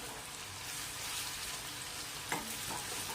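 A coarse paste of garlic and cumin sautés in a pan with a soft, even sizzle, and a single scrape of a stirring spoon cuts through near the end.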